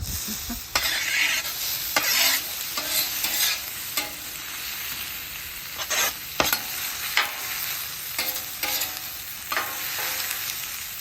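Peppers and onions fry on a flat top grill with a steady, close sizzle, broken by repeated scraping and stirring strokes from a spatula across the griddle.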